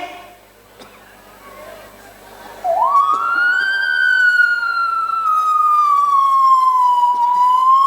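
A voice imitates a fire engine siren: a long rising wail that climbs, holds and slowly sweeps down, loud and close, after a quiet start.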